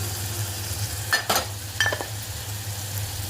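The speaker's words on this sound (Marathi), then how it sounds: "कांदा लसूण मसाला हे टाकून देऊया थोडंसं परतून घेऊयाचं" Onion, garlic and masala sautéing in a pan give a soft sizzle, with two short bursts of scraping and stirring against the pan and a faint hum beneath.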